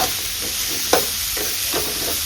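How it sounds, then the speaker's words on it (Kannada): Radish pieces frying in oil in a pan, a soft steady sizzle with a few brief stirring scrapes, close and fairly quiet with no talking. "ಇದನ್ನು ಒಂದು ಸ್ವಲ್ಪ ಹಾಗೆ ಅದೇ ಆಯಿಲಲ್ಲಿ ಫ್ರೈ ಮಾಡ್ಕೊಳ್ಳಿ."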